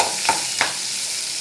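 Chopped shallots sautéing in hot oil with dal in a pan while cooking bitter gourd fry, a steady close sizzle with two brief stirring scrapes.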